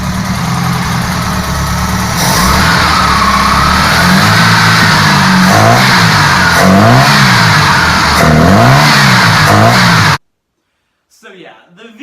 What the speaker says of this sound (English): This is the V4 engine.